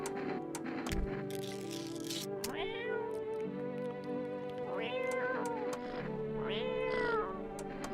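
A cat in a video game lets out several drawn-out, wavering meows one after another, fairly close and clear over a low, steady background hum with a few faint clicks.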